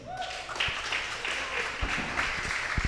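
A small crowd claps for an art guest named Twin, with a moderate run of applause and a voice speaking briefly over it near the start.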